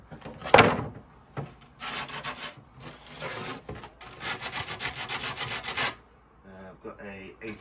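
Hand sanding the edges of a wooden combat shield with 80 grit sandpaper, a sequence of close, raspy scrubbing strokes in uneven bursts separated by short pauses, with a sharp knock at the start.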